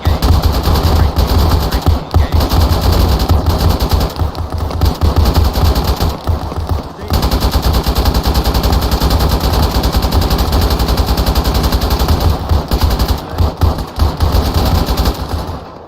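Sustained automatic gunfire from Arma 3 rattles almost continuously, loud and close, with dense overlapping bursts and only brief gaps in the firing.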